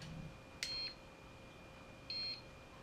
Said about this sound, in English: you can put it on just low, and it beeps a couple times